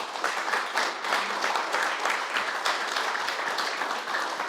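An audience at an evening interview event gives a sustained round of applause, a thick, even wash of many hands clapping at moderate loudness throughout.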